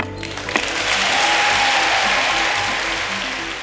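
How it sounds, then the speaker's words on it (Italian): A gathering of Lavazza company staff bursts into loud, close applause, dense and continuous clapping that swells quickly and holds at full strength throughout without voices on top. "Quell'applauso era proprio la grande famiglia Lavazza"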